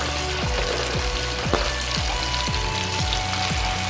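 Garlic, basil, thyme and curry powder sizzle steadily in a hot frying pan as they are stirred, a close, continuous crackle with a few soft tonal chirps and no talking.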